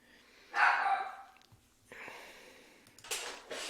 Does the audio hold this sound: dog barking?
yes